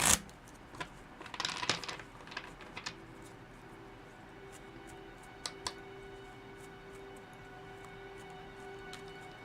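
A deck of tarot cards is shuffled by hand, giving a cluster of quick papery riffles and taps near the start, then a few sparse flicks over a quiet, steady hum.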